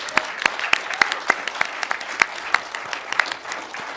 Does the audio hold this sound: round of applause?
yes